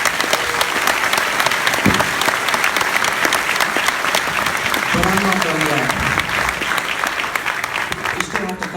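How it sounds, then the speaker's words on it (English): Sustained applause from an audience at a school event honoring teachers, dense clapping filling the space throughout, with a speaker's voice cutting in partway over the noise. "let's just give a round of applause to our teachers"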